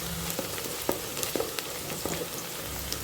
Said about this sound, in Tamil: இப்போ பாருங்கள், நல்லா வதங்குது வெங்காயம்.